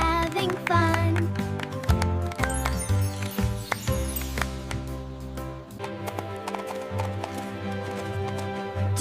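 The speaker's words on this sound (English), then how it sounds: "Do you hear the clip-clop?" Cartoon horse hooves clip-clop in a steady trotting rhythm, loud and close, with bright music playing throughout.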